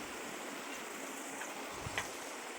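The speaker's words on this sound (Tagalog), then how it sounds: "May maliit na sapa." Small mountain stream in Atok, Benguet flowing nearby: a steady broadband rushing wash of water, fairly faint and even, with no talk.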